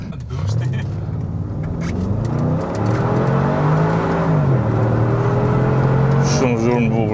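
Porsche Techart Magnum SUV engine droning steadily while driving, a loud continuous hum with rising and falling pitch sweeps, with people talking over it throughout.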